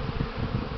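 Honey bees flying thickly around a hive in spring warmth near +20 °C: a dense, continuous buzzing swarm, close and steady, with no voices.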